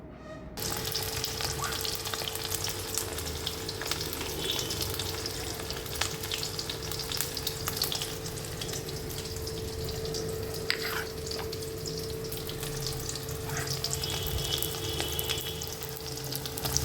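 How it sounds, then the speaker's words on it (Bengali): Onions frying in hot oil give a loud, continuous sizzle and crackle that holds steady throughout, with a faint constant hum underneath and no voices. "পেঁয়াজটা তো লাল লাল ভাজা হয়ে গেছে"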